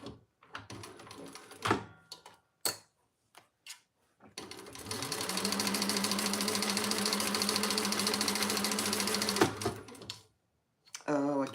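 A sewing machine stitches a Small Ciana bag in one sustained whirring run of about five seconds, close and clear, with scattered clicks and speech before and after.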